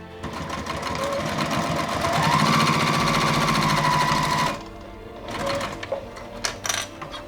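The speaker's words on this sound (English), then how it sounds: "I'm folding the seam allowance over to the bottom and top stitching" A sewing machine runs steadily for several seconds, top stitching a folded seam allowance along a bag's side gusset, then stops and leaves a few light clicks and handling noises.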